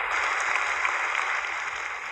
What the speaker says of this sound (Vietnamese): Chúng ta hãy cho đối tác của chúng ta một tràng pháo tay thật nồng nhiệt ạ.